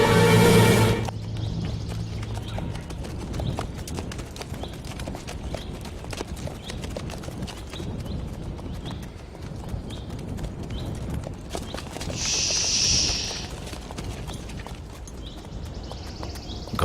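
Horses' hooves clip-clop in a steady walking rhythm on hard ground during a dramatized historical escape scene, moderately close and continuous, with brief bursts of other noise and no speech.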